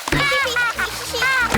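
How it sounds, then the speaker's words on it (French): Cartoon water splashing as a young pig kicks its legs while holding a swimming board in a pool, quick splashy bursts mixed with children's voices talking over them. "mais n'éclabousse pas autant"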